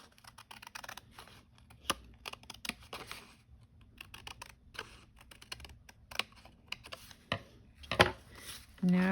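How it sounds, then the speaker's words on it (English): Scissors snip through a junk journal page in a run of quick, crisp clicks and cuts close by, with light rustling and handling noises between snips and a louder clatter near the end. "I'm just going to cut it with the scissors."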